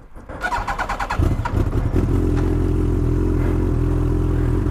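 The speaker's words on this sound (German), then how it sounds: "Ich fahre heute mit dem Motorrad zur Berufsschule." A Yamaha R1 motorcycle restricted to 48 hp starts up and rides off, a brief clattering crank giving way to a loud, steady engine drone close to the microphone, riding on a morning trip to vocational school.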